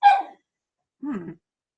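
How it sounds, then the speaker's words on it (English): Two loud, close dog barks, one sharp and high, the second lower and gruffer, separated by about a second of silence. "And there's my dog, always making its appearance. Sorry about that. The loud barks."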